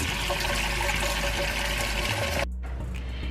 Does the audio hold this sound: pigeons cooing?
no